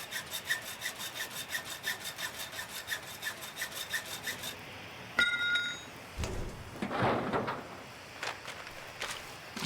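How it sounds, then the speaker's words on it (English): A hacksaw rasps through material in the survival video game The Long Dark, fast rhythmic strokes for several seconds, then a pause followed by clinking item sounds and scattered rustling. "Our hacksaw's still at 63."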